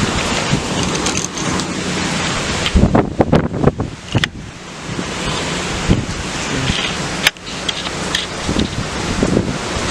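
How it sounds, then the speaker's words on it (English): Relentless strong wind during Hurricane Harvey roars continuously and loudly, buffeting the microphone with heavy gusts and rushing noise throughout, alongside surf-like whooshing and a few sharp knocks. "But dude, the wind is relentless."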